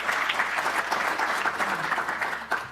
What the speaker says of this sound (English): I think a round of applause for our delegation